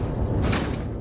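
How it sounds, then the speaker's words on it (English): A heavy high-security vault door in a vault built with ram-proof concrete walls gives a short, close mechanical creak and slide that rises and fades within a second. "Visitors enter the vault through a high security door."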